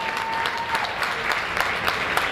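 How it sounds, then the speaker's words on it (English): Audience applause at a Chicago music seminar event, a dense steady wash of many hands clapping close and loud throughout, with no speech. "So Chicago, you deserve a round of applause."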